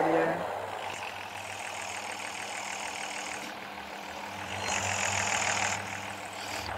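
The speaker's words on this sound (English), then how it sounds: "You can tell that's a Nissan GTR going down there." Nissan GT-R in the Car Parking Multiplayer video game, a steady moderate engine drone rising and falling as the car drives off, fairly quiet with talk alongside.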